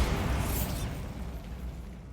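A Bombarda spell explosion in the Hogwarts Legacy video game, a single loud, dense boom with a bright burst at the start that rumbles on steadily for a couple of seconds.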